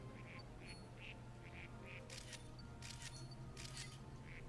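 Ducks in New Pokemon Snap give a run of soft, regularly spaced quacks, faint and distant over a low game hum, interrupted by three bursts of camera shutter clicks.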